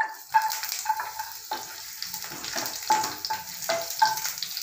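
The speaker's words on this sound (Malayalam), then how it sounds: "അതിനകത്തേക്ക് വെളുത്തുള്ളി, ആ നാല് വെളുത്തുള്ളി അരിഞ്ഞതിടുന്നു." Chopped garlic sizzles in hot oil with cinnamon in a pan for a vegetable curry, a close crackling fry broken by several sharp spatula scrapes and stirs, with no voices.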